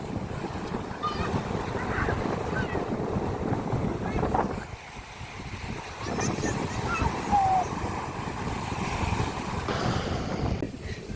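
Sea waves washing onto Nikol beach, a continuous roaring surf with wind buffeting the microphone, one wave easing briefly before the rush builds again, with faint voices mixed into the steady wash.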